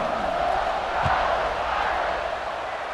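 A stadium crowd in a college football video game, Notre Dame in a dynasty mode, buzzes after a score, a dense continuous roar of many voices at a steady level with no commentary over it.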